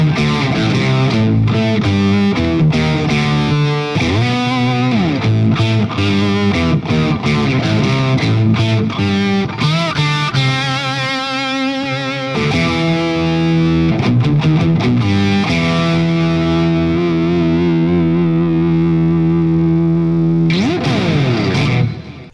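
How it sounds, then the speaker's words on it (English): Heavily distorted electric guitar through a Sonicake octaver pedal set two octaves down, a deep sub-octave growl beneath it, playing riffs and sustained chords loudly and continuously with no talking. "this is where the 2 octave down sounds really cool, is when you pile on the distortion"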